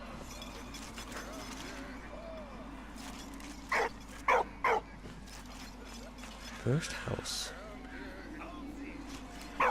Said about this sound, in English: So we gave him some water and now he barks at us.